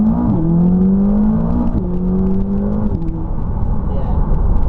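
A McLaren 570S sports car accelerates hard through fast gear changes, its engine note climbing in pitch, dropping at each shift and climbing again, loud and close from inside the cabin.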